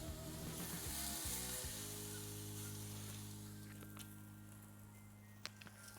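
A Wagyu tomahawk ribeye sears in a hot pan with a loud, steady, dense sizzle and crackle that continues unbroken throughout, easing slightly toward the end.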